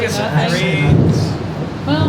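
Rain and rumbling thunder sound from an ambient soundscape behind a tabletop roleplaying session, a low rolling boom with steady patter beneath several people talking.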